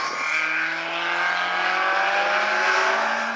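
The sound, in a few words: midget race car engine taking the green flag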